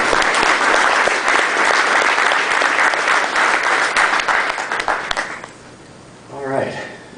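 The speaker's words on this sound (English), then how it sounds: "So please, a nice big round of applause for Mr." Loud, dense applause from a business audience welcoming a speaker at a Calgary office leasing update, sustained for about five seconds before fading out, with a brief voice heard near the end.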